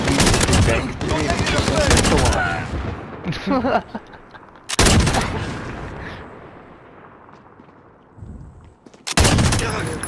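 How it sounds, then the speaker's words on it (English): Bursts of automatic gunfire in the video game Modern Warfare, loud, close and broken into three separate volleys with quieter gaps between them, where faint game sounds and voices can be heard. "I'm using every single one of my bullets."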